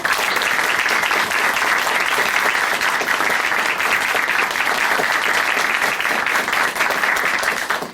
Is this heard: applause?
yes